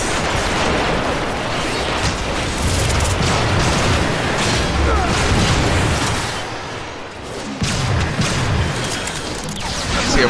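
Loud, chaotic battle din in a Scout-class shooter match, with a rocket blast and booming impacts amid continuous gunfire and mechanical clatter, steady and close throughout with a brief dip before the noise surges again.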